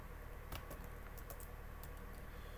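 Computer keyboard keys pressed to stop a running instance, a few sharp clicks scattered over steady background hiss, with no talking.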